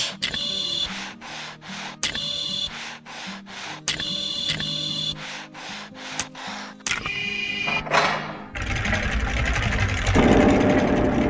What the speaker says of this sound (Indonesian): Traktor sedang berpindah tempat.